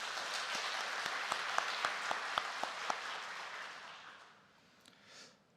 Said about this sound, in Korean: 크게 박수하겠습니다.